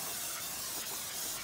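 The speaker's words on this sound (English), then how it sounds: "Then we'll use some brake pads cleaner." Brake cleaner sprays in a continuous close hiss onto a new brake disc during a brake pad and disc replacement on a 2015 Vauxhall Corsa E, steady and unbroken throughout.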